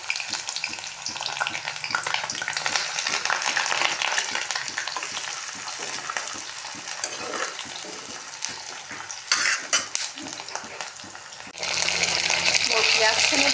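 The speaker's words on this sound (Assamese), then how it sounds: "এয়া মোৰ তেল গৰম হৈ গৈছে কেৰাহী পাতি থৈ দিছিলোঁ ইয়াত এতিয়া মই পিঁয়াজ দি দিছোঁ" Sliced onions fry in hot oil in a wok, a close continuous sizzle with repeated stirring scrapes and rhythmic clatter, the hiss surging louder near the end.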